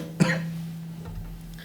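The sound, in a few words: cough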